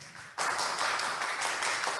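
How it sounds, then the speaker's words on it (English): Audience applause for a child at a church Sunday school retreat, a dense burst of clapping that starts suddenly and keeps up steadily to the end. "Can you all give her a round of applause?"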